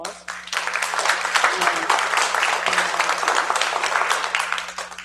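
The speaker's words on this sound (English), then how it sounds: "So let's give all the students a round of applause." Audience applause fills a room after a student piano recital, steady dense clapping for about five seconds with a brief spoken word at the start and a faint low hum underneath.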